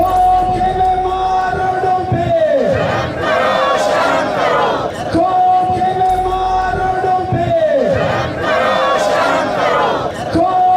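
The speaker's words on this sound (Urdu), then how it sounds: "حکومت کے خلاف شدید نعرے لگائے جا رہے تھے۔" Striking male and female teachers chant slogans against the government in front of the civil secretariat in Quetta, Balochistan, a loud crowd repeating the call-and-response rhythm in strong waves with shouted lines over the mass of voices.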